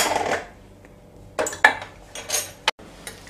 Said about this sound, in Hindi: अब हम कुकर को खोलेंगे